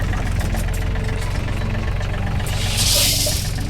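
Steady idling of a neighbor's tractor engine, loud and close, with a continuous low rumble and knock. A hissy rush swells near the end, and nobody speaks.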